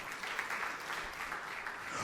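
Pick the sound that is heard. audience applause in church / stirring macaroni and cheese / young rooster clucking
audience applause in church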